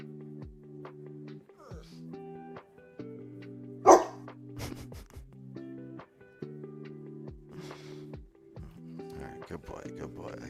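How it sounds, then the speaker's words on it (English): A dog barks and growls in scattered bursts, with one loud sharp bark standing out, while a person talks over steady tonal background sounds. "He's barking at me. He's growling at me."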